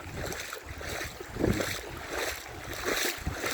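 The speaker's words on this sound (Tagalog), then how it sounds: "Yung mga alon-alon yan, no?" Waves at sea, heard from a fishing boat, surge and wash in repeated broad swells, with steady wind buffeting the microphone throughout.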